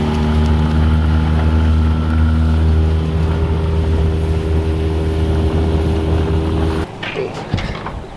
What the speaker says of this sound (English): we're about to fire up the motor for the first time in the season. There she goes